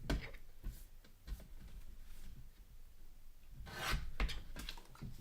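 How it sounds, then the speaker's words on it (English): Paper is trimmed for a scrapbook layout, a soft rasping and rubbing of blade or scissors against the sheet in short strokes, quiet and close, with a fuller burst of cutting near the end and no voices. "I want to trim it just a little bit more"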